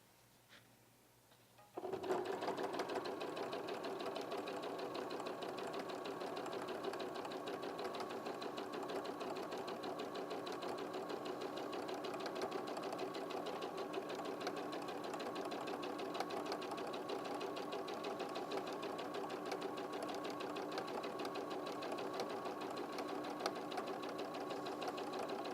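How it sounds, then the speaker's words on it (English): Sewing machine stitching along marked lines on fabric pieces, starting after a brief pause and then running steadily in a fast, even mechanical whirr and rapid needle clatter, close up with no talking. "So if you want to start sewing that, Cal."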